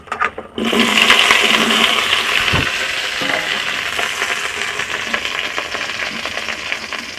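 Chopped vegetables hit a hot wok of oil for a tamarind and prawn sour dish, bursting into a loud, continuous sizzle after a brief quiet start, with occasional stirring scrapes as the frying settles.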